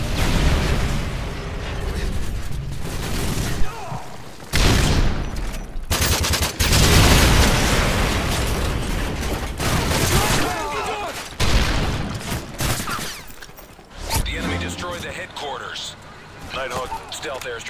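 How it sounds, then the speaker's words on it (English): Stealth airstrike explosions in Call of Duty: Modern Warfare 3, with dense rolling blasts, bursts of gunfire and mechanical clatter running continuously, and game voices calling out over the barrage. "Stealth airstrike waiting."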